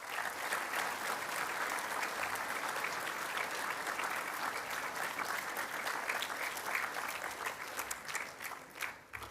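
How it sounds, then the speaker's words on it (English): Sustained applause from a large crowd of students and staff at a school assembly, steady and dense throughout, tapering slightly at the very end. "I would like everyone now, just as a round of applause, to welcome all of our new students to Nudgee"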